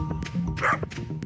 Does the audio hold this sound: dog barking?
yes